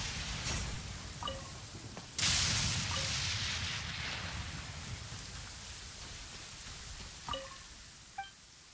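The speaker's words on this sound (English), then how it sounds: "it's raining" Steady rain in the video game Genshin Impact patters continuously, with a sudden loud crack partway through and a few short chirpy tones and thuds later on.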